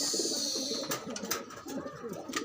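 Tippler pigeons coo softly in low, throaty warbling notes, faint and close, with a few sharp clicks or taps over a quiet background.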